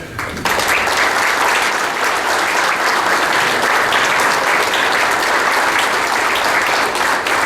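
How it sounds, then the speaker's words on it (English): A round of applause honors alumni association and foundation board members standing at a sports hall of fame luncheon and induction ceremony, steady dense clapping from a large seated audience that starts abruptly and fills the room without a break. "I would like to ask the board members of the Alumni Association and the Foundation to stand so that we can honor them with a round of applause."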